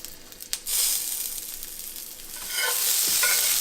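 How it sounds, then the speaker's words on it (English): Tomatoes hit a preheated pan with a teaspoon of smoking-hot oil, bursting into a loud, bright sizzle after a click, then crackling steadily and swelling louder as they blister, no voices. "To blister the tomatoes, we want to preheat the pan so it gets nice and hot, and then add about a teaspoon of oil."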